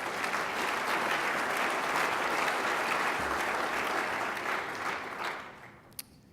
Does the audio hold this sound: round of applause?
yes